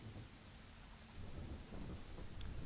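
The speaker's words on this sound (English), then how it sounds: "The thunderstorm is getting a lot worse." Thunderstorm in Pokémon Ultra Sun, steady rain hiss with a low rumble of thunder that swells slightly in the second half.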